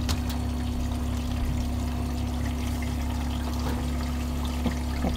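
A washing machine aboard a narrowboat runs on medium spin, giving a steady low hum with sloshing, trickling water churning continuously nearby.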